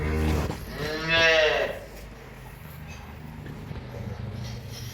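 A buffalo at a farm water pipe gives one long, loud, drawn-out moo near the start, close by, followed by quieter farmyard background noise.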